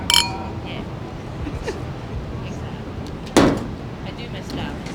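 Wine glasses of natural wine clinking in a toast, two bright close clinks a few seconds apart amid quiet background talk.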